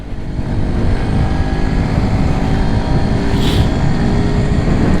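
A 2019 Kawasaki Ninja 125 being ridden, its small 125cc engine droning loud and steady under heavy wind rush throughout.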